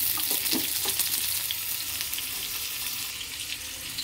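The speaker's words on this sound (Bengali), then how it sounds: "আর মাছগুলো ছেড়ে দিয়েছি। মাছগুলো ভাজা হতে থাক।" Steady sizzling of fish frying in a covered pan, a continuous hiss with a few crackles and pops, close and fairly loud, with no talking.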